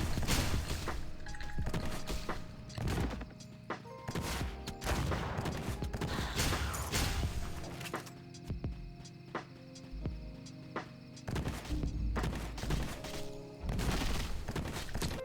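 Sharp gunshots from the Gunslinger's Showdown ability in Archeage: Unchained crack out in irregular volleys, some close together and others spaced apart, loud and punchy over a faint game background with no talking.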